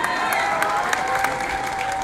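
Steady applause from a crowd at a political rally, dense clapping that holds at an even level for the whole short stretch, with faint crowd noise underneath.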